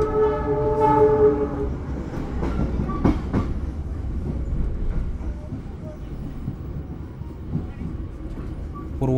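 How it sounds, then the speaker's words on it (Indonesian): A train passes on an Indonesian railway line while its horn sounds a sustained, harmonic blast near the start. Rumbling wheel and carriage noise follows, steady and fairly close throughout. "Bakal ada papasan kereta nih."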